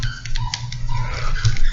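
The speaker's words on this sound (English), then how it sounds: "sorry if you can hear my dog whining in the background" A small poodle whines and whimpers in another room, a few short high yelps and cries over a low background hum.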